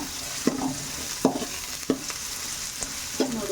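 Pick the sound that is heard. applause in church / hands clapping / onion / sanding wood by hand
onion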